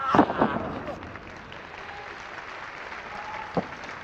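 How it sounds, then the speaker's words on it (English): A pro wrestling crowd in Fukuoka breaks into applause, a steady wash of clapping that rises, holds, and then fades out, with some broadband crowd noise underneath. "LJ Cleary receives a round of applause from the audience here in Fukuoka."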